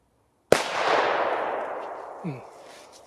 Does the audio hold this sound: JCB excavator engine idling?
no